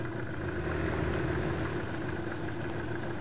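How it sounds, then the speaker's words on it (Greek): A boat engine idles steadily with a low, even rumble that holds constant throughout, close and fairly loud, with no voices. "Δώσε λίγο γκάζι και σβήσε μηχανή ακόμα."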